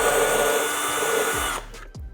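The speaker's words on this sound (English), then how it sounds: "Now we're gonna go ahead and start the holes, actually drill the holes" A power drill whines steadily at close range, grinding through a car's rear wing for about a second and a half before spinning down and stopping.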